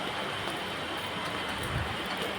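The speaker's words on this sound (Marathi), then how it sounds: "पाऊस येतोय" Steady rain pours down, a dense, continuous hiss with no voices, holding at an even level throughout.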